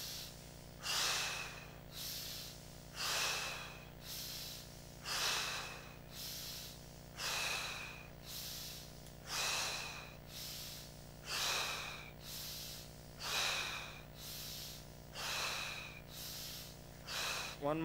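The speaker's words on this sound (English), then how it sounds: "Inhale to the nose, exhale to the mouth." Rhythmic breathing exercise: about eight cycles of deep inhaling through the nose and exhaling through the mouth, close and steady, with each breath swelling and fading over a faint background hum.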